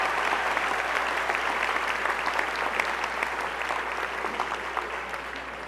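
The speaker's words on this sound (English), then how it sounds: "applause for his accomplishment." A full round of crowd applause at the 2019 Mercer County Community College commencement honors Professor Ron Smith, sustained and even for several seconds, thick with many hands and easing slightly toward the end.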